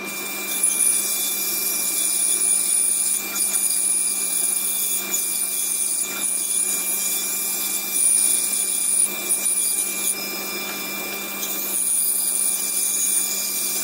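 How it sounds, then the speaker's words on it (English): A wood lathe turns a pine bowl blank while a dust extractor runs, producing a loud, steady whirring drone with a constant high whine and faint scraping that hardly changes across the stretch. "So we're just going to turn the extractor on and get cutting."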